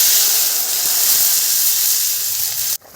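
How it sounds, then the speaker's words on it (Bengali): Water poured onto fried potatoes in hot oil gives a loud, steady hiss that holds for nearly three seconds, then cuts off abruptly near the end. "আলুটা আমার ভাজা হয়ে গেছে, আমি এই আলুর মধ্যে আমি জল দিয়ে দেবো।"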